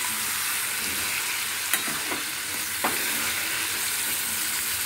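Turmeric and salt stirred into vegetables frying in white cooking oil, likely ridge gourd, potato and pointed gourd, with a steady close sizzle broken by a few sharp spoon scrapes against the pan.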